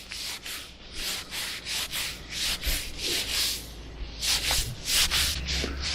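Oily rag wiped over the rusty hydraulic rams of a vintage David Brown 990 tractor, a steady series of rough rubbing strokes, close and fairly loud, with no talk.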